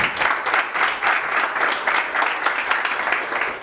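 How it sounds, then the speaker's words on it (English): An audience at an evening blockchain meetup gives a round of applause, a steady, dense wash of many hands clapping throughout, with no voices standing out. "Round of applause."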